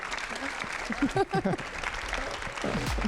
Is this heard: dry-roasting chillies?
no